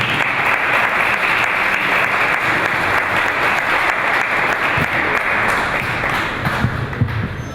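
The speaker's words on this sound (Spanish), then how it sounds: "Démosle un fuerte aplauso" Audience applause fills a university lecture hall as a guest speaker is welcomed: dense, steady clapping from a large crowd that holds for about seven seconds and tapers slightly at the end.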